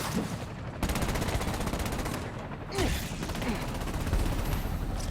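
Sustained machine-gun fire from Marvel's Spider-Man: Miles Morales keeps up a fast, even rattle, loud and close, with a short break partway through and faint game voices underneath.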